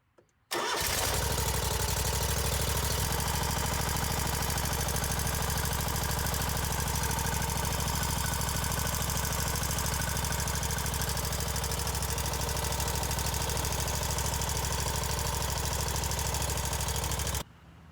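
A Kawasaki FX850V mower engine, freshly fitted with new valve cover gaskets, cranks and runs steadily for about seventeen seconds, a loud, close, continuous mid-pitched drone with no talk, then cuts off.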